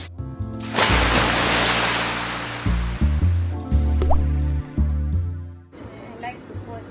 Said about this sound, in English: time to put our liquid.